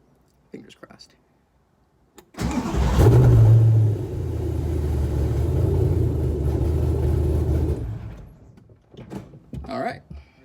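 After a few quiet clicks, a Superlite SLC car engine cranks and catches on a rebuilt fuel system, then runs with a loud low rumble for several seconds before cutting off, followed by soft mechanical noises.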